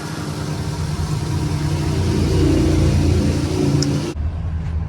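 A car engine that has just been restarted idles quietly in a steady low rumble. It holds even throughout and drops away abruptly near the end.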